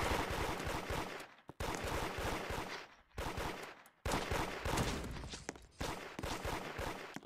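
Glock pistol shots in a police shooter game, dense rapid volleys of loud, close gunfire in several bursts with brief pauses between them.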